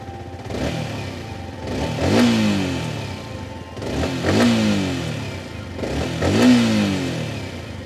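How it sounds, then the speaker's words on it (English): A Yamaha R15 V4 single-cylinder sport motorcycle engine revs three times in a row, each blip rising sharply then falling back to a throbbing idle, close and loud. "listen to the exhaust note of this motorcycle"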